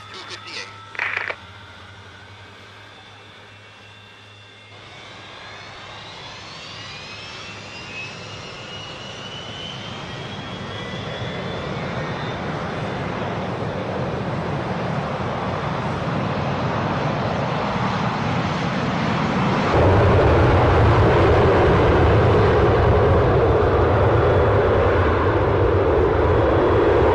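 An airliner taxiing and then taking off as a radio drama effect: a faint early whine and clatter, then a steadily building jet roar that surges louder near the end, with a voice heard briefly at the start.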